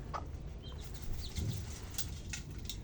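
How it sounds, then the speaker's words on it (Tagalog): A hen with her three chicks gives soft clucks and peeps among rustling and a brief flutter of wings, close by in an early-morning farmyard. "Yan yung mga sisiw niya, oh."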